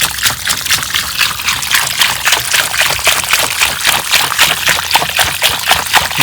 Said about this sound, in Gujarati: હા એ પાણી રેડી દઈએ